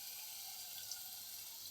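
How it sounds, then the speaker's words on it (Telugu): Water is poured into a pressure cooker while making a mushroom curry, giving a steady, hissing, tap-like rush that runs unbroken and fairly quiet, with no voices. "ఇందులో 1 పావు లీటర్ నీళ్ళు పోసుకొని"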